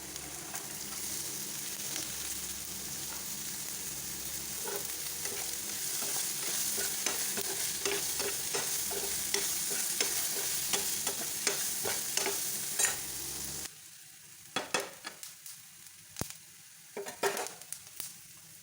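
Carrots stir-fried with a little turmeric in a pan give a steady close sizzle broken by repeated scraping stirs, then the frying quiets abruptly and only intermittent clinks and scrapes remain.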